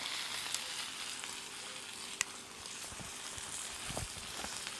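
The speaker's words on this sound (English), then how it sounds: "So we'll sear it and then gently bring it up to temp." A5 Japanese wagyu ribeye searing in a pan, a steady broad hiss of fat sizzling with a few soft pops and clicks, moderately quiet with no talking.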